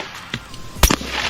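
A Glock 48 pistol fires from a seated position: two sharp, loud reports a moment apart, the second stronger, with a brief echo afterward and no talking.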